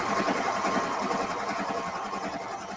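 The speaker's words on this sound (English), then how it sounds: "I like to hem it on my cover stitch when it's a flat open piece" A cover stitch sewing machine hems a pair of shorts with a continuous, even mechanical whir and rapid rhythmic needle clatter, close and steady throughout.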